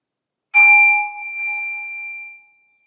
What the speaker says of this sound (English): I have my singing bowl here